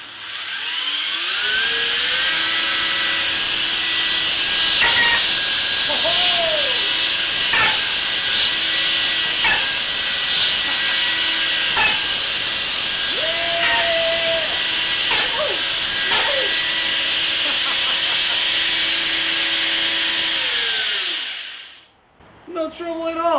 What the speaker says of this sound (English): actually test the chainsaw and cut some wood